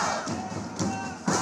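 Protesters in a Tel Aviv city square chant as a crowd, with roughly evenly spaced heavy drum thumps landing about every half second over a continuous, close, loud wall of voices.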